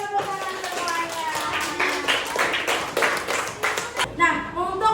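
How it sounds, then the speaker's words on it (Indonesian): Classroom students clap their hands together in a dense, uneven burst of many quick slaps, moderately near, with a teacher's voice speaking over part of it. "Oke, tepuk tangan semuanya."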